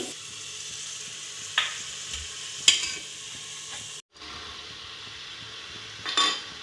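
Potatoes and tomatoes are stirred in a pan for chapati kurma, a soft sizzle under a few light scrapes and clinks of a spoon against the pan, with a brief drop in sound partway through and no talking.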